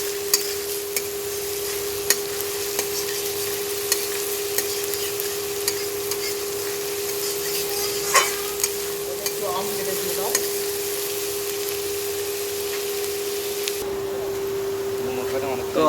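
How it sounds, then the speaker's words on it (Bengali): Onions are stirred and fried in a pan for a mutton kosha, a continuous sizzle punctuated by sharp scraping clicks of the spatula, with a steady electrical hum beneath. "পেঁয়াজগুলো যতক্ষণ না লাল লাল ভাজা হচ্ছে ততক্ষণ নেড়ে চেড়ে ভাজতে থাকবো"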